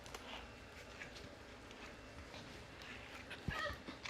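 A dog whimpers and yips faintly during nail trimming at a grooming session, with soft, brief cries over a steady background hiss and an occasional close clack.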